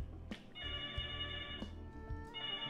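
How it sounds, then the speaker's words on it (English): A telephone rings in a room with repeated electronic bell-like trills, steady and moderately near, with several rings in quick succession and no voices. "That's your phone."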